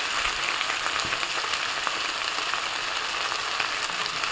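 Cumin paste with turmeric and salt frying in a pan while being stirred, a steady dense sizzle with faint crackles and occasional scraping taps, close and continuous.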